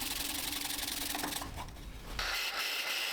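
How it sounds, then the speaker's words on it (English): A small nylon brush rubs turned wood on a lathe, giving a steady close scrubbing hiss that drops off briefly midway and then returns as a brighter, even friction. "Here I'm using a small nylon brush to get rid of any fuzzies."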